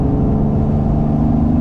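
A BMW E28 fitted with an M30 engine, individual throttle bodies with trumpets, a full exhaust and a standalone ECU, running rich, gives a brief steady rumbling engine note at close range, alone.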